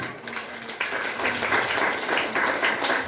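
An audience applauds loudly and steadily, a dense wash of clapping that swells after a brief start and holds for a few seconds.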